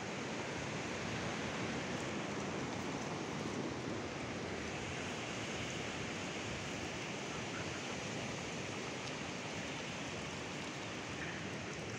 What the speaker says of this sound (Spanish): Acá es donde sale el agua caliente.